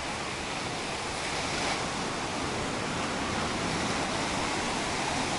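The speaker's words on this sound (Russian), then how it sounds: "Сегодня на пляже волны" Sea waves breaking steadily on Incekum beach in Alanya, Turkey, a continuous loud broadband surf roar with some wind across the microphone and no voices.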